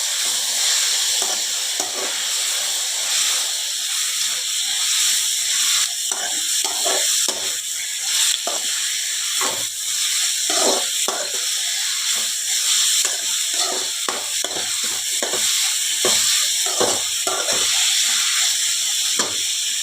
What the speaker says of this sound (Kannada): ಇನ್ನು ಟೊಮೆಟೊವನ್ನು ಹಾಕಿ ಚಂದ ಮಿಕ್ಸ್ ಮಾಡಿ ಫ್ರೈ ಮಾಡಿ.